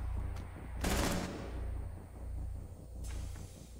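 Bursts of gunfire in the video game Rainbow Six Siege: a loud, close rapid volley, then scattered quieter shots and one further sharp report, with no talking.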